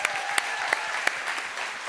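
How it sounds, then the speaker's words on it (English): An audience at a talk claps briefly, a soft spread of applause with a few sharper single claps standing out, lasting under two seconds. "Clap it up, y'all."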